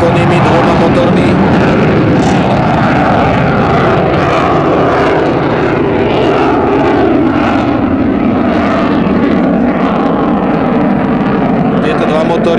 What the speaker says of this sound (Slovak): Lietadlo MiG-29 disponujeme veľmi výkonnými dvoma motormi.